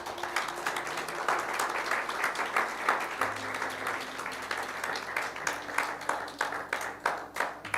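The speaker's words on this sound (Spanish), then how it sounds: "Yo le daría un aplauso al Señor." Applause from a church congregation during a sermon, steady dense clapping throughout at moderate level with a low sustained musical tone beneath.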